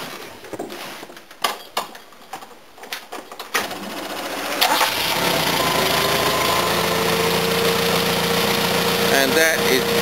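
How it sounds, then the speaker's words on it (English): A Locost kit car with a 4K engine and new tubular headers, heard close by. A few sharp mechanical clicks come first, then the engine starts and settles into a steady, moderately loud idle. "Now I'm going to start the car just to demonstrate what it sounds like."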